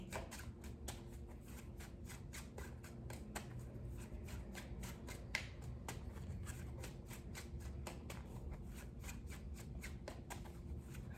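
Tarot cards being shuffled and drawn during a Pisces reading, a steady run of quick papery riffles and flicks going on continuously at close range with no talking.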